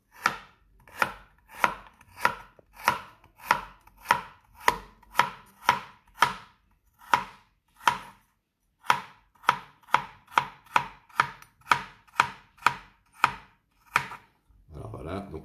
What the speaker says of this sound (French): Je vais couper mes carottes.